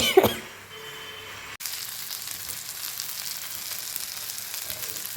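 A pot of fish curry seasoned with curry leaves bubbles on a home stove, giving a steady, close, continuous sizzle and simmer with a sharper burst at the start and no voices.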